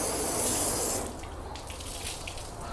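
Water sprays hard onto a sealant-coated car panel, a loud hissing gush that eases after a second into a softer patter and trickle as it sheets off.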